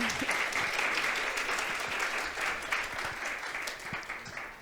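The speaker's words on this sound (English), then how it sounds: "Applause." A conference audience gives continuous, even applause after a talk on data visualisation at DSC Europe 21, a steady mass of clapping that holds at a moderate level throughout.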